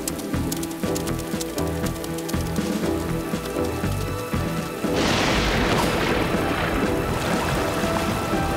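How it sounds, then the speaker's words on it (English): Heavy cartoon rain pours steadily onto surfaces, a dense hiss that swells louder and fuller halfway through and then continues without a break. "The rain's too heavy."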